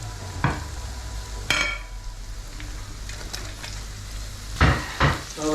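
Onions sautéing with ginger-garlic paste and green chilies in a pan, a steady soft sizzle broken by a few sharp scrapes and clanks of a spoon stirring against the metal, close up with no talking.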